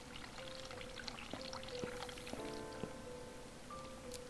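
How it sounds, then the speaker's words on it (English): In the video game The Cat Lady, a hot water tap runs in a bathroom with a soft, continuous pouring rush, faint and steady, along with a few low tonal notes. "We have to probably turn on the hot water and see if there's something written on the mirror."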